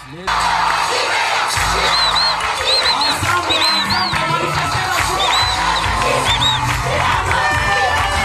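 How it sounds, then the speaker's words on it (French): A large crowd cheers and shouts continuously, with loud whoops and high-pitched yells rising above the dense roar. "c'est sous les acclamations et aux cris de Tshilombo Fachi Béton"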